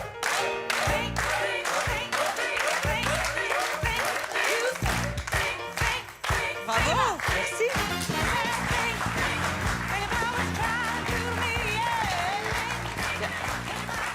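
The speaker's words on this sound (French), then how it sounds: "C'était pour vous donc, Mylène, qu'on va applaudir encore" Television studio audience applause for a participant on a mentalist show, heard as a dense, steady clapping that carries under prominent music and occasional talk for the whole stretch.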